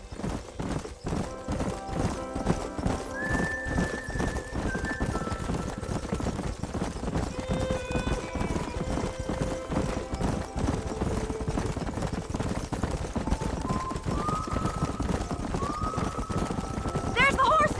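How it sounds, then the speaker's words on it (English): Horses galloping in Red Dead Redemption 2, a steady drumming clip-clop of hooves running under music and talk, with an occasional neigh breaking through. "There's the horses!"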